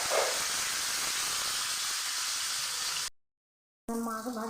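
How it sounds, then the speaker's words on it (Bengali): Catla fish rubbed with salt and turmeric frying in hot oil, a loud steady hiss and spatter that cuts off abruptly to silence, followed by a short burst of other sound. "আমি প্রথমে মাছটাকে ভেজে নেব"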